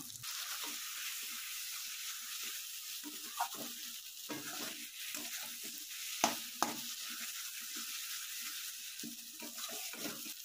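Masala of ginger-garlic paste, cumin, chili powder, turmeric and chopped tomato frying in a pan, a steady hissing sizzle broken by irregular stirring scrapes and two sharp utensil knocks.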